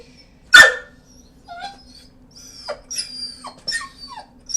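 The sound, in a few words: dog barking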